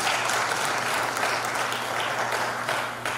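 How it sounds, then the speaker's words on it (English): Sustained applause for graduating students at a theological seminary graduation ceremony, a dense steady wash of many hands clapping that holds for about three seconds before easing slightly. "Can we clap for them?"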